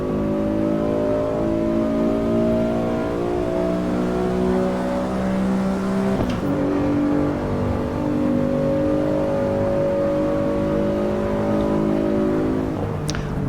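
Car accelerating at high speed in the Assetto Corsa EVO racing sim, a steady engine drone climbing in pitch through the gears with a shift near the middle and another at the end, continuous and moderately loud with no speech.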